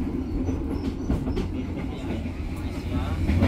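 Commuter train rolling on rails on the approach to Purwakarta station, with a steady close rumble and low wagon noise running throughout and a faint voice beneath.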